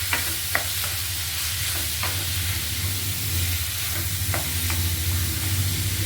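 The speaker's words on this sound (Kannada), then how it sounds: "ಈಗ ನಾನು ಈರುಳ್ಳಿ ಹಾಕ್ಕೊಂಡಿದ್ದೀನಿ. ಈಗ ಚೆನ್ನಾಗಿ ಇದನ್ನು ಫ್ರೈ ಮಾಡ್ಕೊಳ್ತೀನಿ." Onions frying in hot oil in a pan give off a loud, constant sizzle and hiss, with occasional spatula scrapes and taps, close up and without talk.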